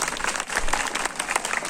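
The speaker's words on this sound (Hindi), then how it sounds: "इनके लिए एक बार जोरदार तालियां हो जाए।" An audience at a farmers' fair and livestock market in Bilaspur breaks into applause, a dense burst of hand claps from a crowd, loud and close.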